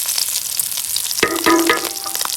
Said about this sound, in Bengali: খুব সুন্দর করে ভাজলাম, সরিষার তেল দিয়ে রাঁধছি